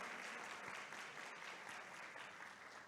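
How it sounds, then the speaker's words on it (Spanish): Congregation applause during a Spanish-language church sermon, an even, dense roar of many hands clapping that holds steady from start to finish at low overall level. "¿Le das un aplauso al Señor?"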